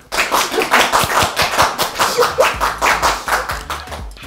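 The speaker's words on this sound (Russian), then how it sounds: "Аплодируйте мне." A small audience claps steadily in a studio game show, a brisk run of close, even hand claps lasting several seconds with no speech over it.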